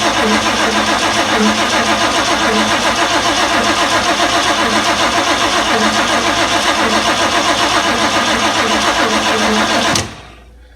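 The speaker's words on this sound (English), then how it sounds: "It's just going to literally crank it so with no sparks, so we don't have a big fire." Ford 460 V8 cranked over by the starter with the ignition disabled, a loud, steady rhythmic chugging that runs for about ten seconds without catching, then stops abruptly.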